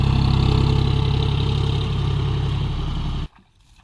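A tractor engine, the machine bogged down in a field, runs loud and close with a steady low, chugging drone that cuts off abruptly near the end, leaving near silence.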